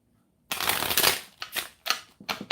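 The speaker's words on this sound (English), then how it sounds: "One more shuffle for you" Tarot cards being shuffled by hand, a burst of crisp riffling followed by several shorter flicking bursts, close and clear in a quiet room.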